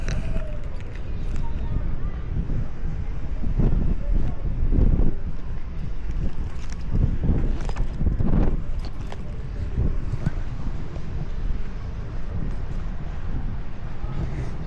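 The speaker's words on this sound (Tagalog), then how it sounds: "medyo malakas ang hangin tsaka umuulan-ulan." Strong wind buffeting an outdoor microphone near a train station on a rainy, gusty day in New Zealand, a continuous loud rumble with heavier gusts throughout.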